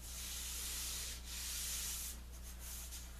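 Wood for a pub table being sanded smooth to 220 grit, a steady rough rubbing hiss that swells and eases in strokes, with no talk.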